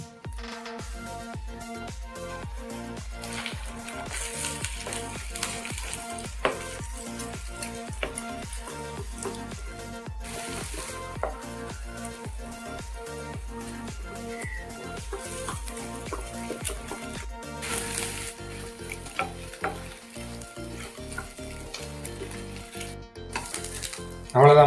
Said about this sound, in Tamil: முட்டையை பொறுத்தாச்சு